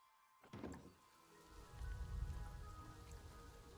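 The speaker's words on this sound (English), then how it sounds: "Oh, it's raining." Rain falling in the video game Planet Zoo, a soft, quiet wash of drops on surfaces that swells after a brief knock and continues steadily in the background.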